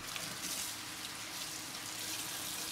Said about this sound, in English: I'll dump this out into the strainer because we want to rinse it off